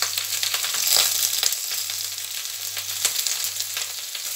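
Cut okra (lady finger) frying in oil in a pan, a steady close hiss and sizzle with faint crackles and a low constant hum beneath, no voices.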